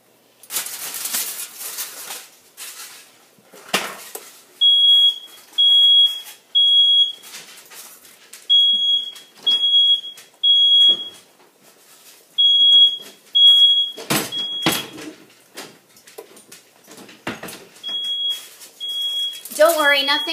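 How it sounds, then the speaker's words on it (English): A super sensitive household smoke alarm beeps in a kitchen while apple pie filling is cooked, with repeated short, piercing chirps in bursts. A person talks between and over the beeps. "I have a super sensitive smoke alarm."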